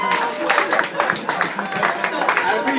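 Audience clapping at a stand-up comedy show at Hightopps, a dense, steady wash of many hands filling the room at close range, with a voice faintly audible through it.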